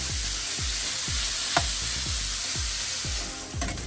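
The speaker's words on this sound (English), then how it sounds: "I'm gonna add the sausage in to brown them." Spicy pork sausage sizzles steadily as it browns in coconut oil in a pan, with close, regular stirring thumps under the frying hiss and no voices.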